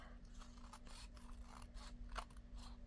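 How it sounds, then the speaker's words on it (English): Scissors make a rapid series of close, crisp snips while trimming the edge of a paper tag for a journal insert, accompanied by a faint steady electrical hum. "And then I'll trim this edge off."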